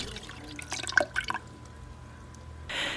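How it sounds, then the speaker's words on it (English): Coconut water and coconut milk pour into a cooking pot in a short burst of drips and splashes, soft and close, followed by a brief rush of liquid noise at the end. "I'm going to add in some coconut water along with coconut milk."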